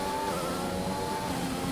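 A Formula 1 car engine in a racing video game, set at Japan, hums steadily and fairly loudly throughout with a continuous tonal drone and no sharp revving.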